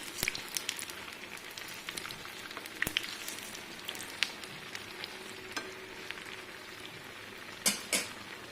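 Banana malpua fries in oil on a medium flame, a soft continuous crackling sizzle with scattered pops and a couple of louder clinks near the end, fairly quiet and without talk.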